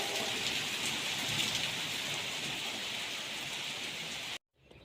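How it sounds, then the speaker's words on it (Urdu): Heavy rain pours steadily in a village, a dense, loud, continuous hiss of drops drumming on surfaces that cuts off abruptly near the end, with no voices. "تیز بارش آ رہی ہے۔"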